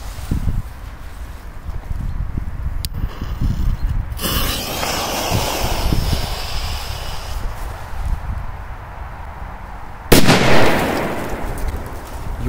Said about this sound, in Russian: Давайте вот эту петарду взорвем.